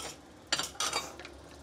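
A utensil scrapes and clinks against a cooking pot of simmering curry with carrots, giving two or three short, moderately loud stirring strokes over a quiet background.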